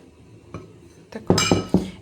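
Small black and beige bowls from a supermarket clink together as they are handled indoors, a few sharp close ceramic knocks with a soft tap before them.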